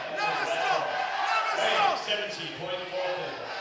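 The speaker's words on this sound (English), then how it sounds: "The crowd is going wild here right now." Spectators at an MMA fight between Bradley Owen and Ricki Middleton roar and cheer loudly and continuously, with a commentator talking over the noise.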